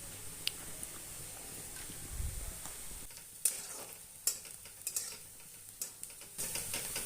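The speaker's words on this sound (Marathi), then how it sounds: "कांदा परतून झालाय." Chopped onion sautéing in a pan while making churma from leftover chapatis, a quiet sizzle broken by intermittent scraping and clinks from a spatula stirring against the pan.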